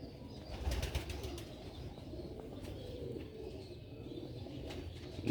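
Sialkoti black-faced pigeons coo softly nearby in a faint, low murmur, with a brief flutter of wings near the start and no talk.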